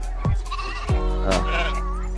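Sheep bleat several times in close succession, loud and near, the calls overlapping over a steady low hum with some background voices.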